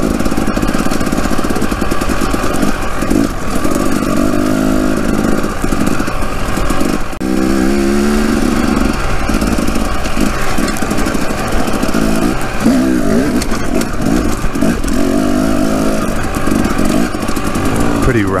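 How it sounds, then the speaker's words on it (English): A dirt bike engine drones loudly and continuously while riding rocky desert trails in Arizona's Kelly Canyon, with the revs rising and falling; people talk over the engine noise. "Oh, it feels good to be on a bike on these trails."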